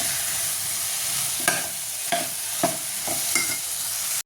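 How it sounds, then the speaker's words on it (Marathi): Spices and rice for dal khichdi sauté in a hot pan under a steady sizzle, while a spoon scrapes and stirs in five distinct strokes, close up with no talking. "मस्तपैकी सर्व परतून घ्यायचं आहे आपल्याला हे अशा पद्धतीने"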